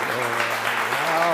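A lecture audience at St Mary's Perivale applauds the speaker in a short burst, the clapping blended with a voice talking over it.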